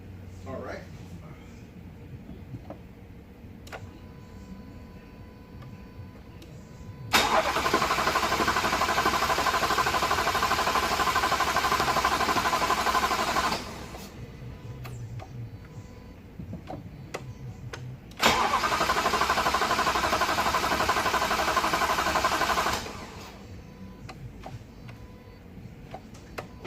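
The 5.0 engine of a 2011–2012 Jaguar XF, primed after head gasket and timing chain repair, cranks in two loud, steady bursts of several seconds each, with quieter stretches between and after them.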